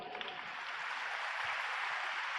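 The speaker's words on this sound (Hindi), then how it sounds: "सिर्फ और सिर्फ ताली बजाओ अब इनके लिए" An audience claps steadily together, a dense, even patter of many hands heard at a faint, distant level, with no talk over it.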